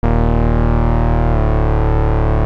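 UK bass synth patch run through a low-pass filter and heavy tube distortion, holding one loud, buzzing, harmonically dense sustained note that dips slightly in pitch midway, dry and alone without speech.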